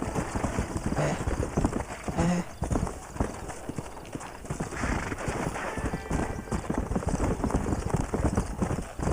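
Horse hooves trot in a steady clip-clop rhythm across a Red Dead Redemption game scene on PS3, with music and a brief neigh in the mix, and a voice speaks at moments over the hoofbeats.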